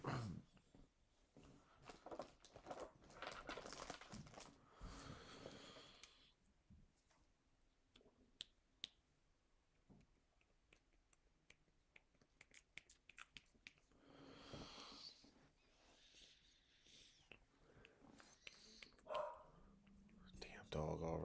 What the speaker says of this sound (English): Anytime dog barks, I mute up, guys.